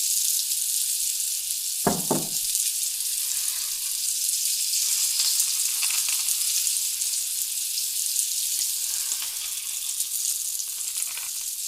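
Beef shin searing in hot oil in a pot, a steady close bright sizzle throughout with a brief scrape or stir near the start, no talking.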